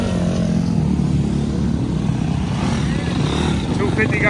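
Two-stroke dirt bikes ride past at Daytona Supercross, producing a steady, loud engine drone mixed with crowd noise and voices.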